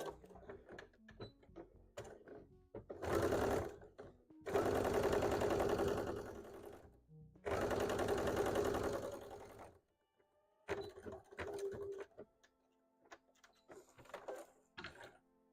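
A sewing machine stitches a fabric Pokemon hat in several bursts of steady rapid whirring, close and loud, separated by pauses with soft handling clicks and rustles.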